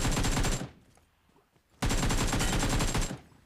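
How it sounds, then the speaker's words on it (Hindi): Automatic gunfire in the video game BGMI, two loud rapid bursts with a short quiet gap between them. "मैंने फायर कर दिया"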